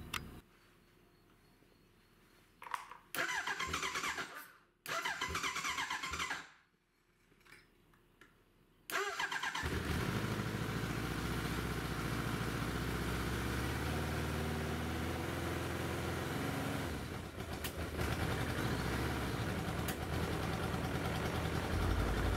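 Cold Suzuki GSX-F 1100 motorcycle engine cranking with a few stuttering false starts and gaps, then catching and settling into a loud, steady but rough idle heard up close, with no talk over it.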